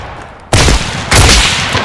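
Two loud, booming shotgun blasts from a first-person video game, the second following about half a second after the first, each leaving a dense roar that fills the rest of the short stretch.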